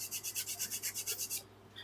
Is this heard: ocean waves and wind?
no